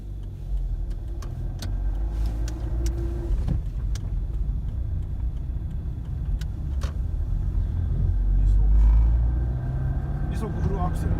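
A 14-year-old Suzuki Swift with a transmission fault noise drives along, giving a steady low road and drivetrain rumble from inside the cabin that swells louder near the end, with a few faint clicks.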